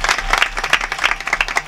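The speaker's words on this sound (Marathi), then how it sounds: "एकदा तर बघा टाळ्या वाजव." An audience at a Marathi kirtan claps rhythmically, sharp distinct hand claps falling in an uneven beat, close and fairly loud, with no speech over them.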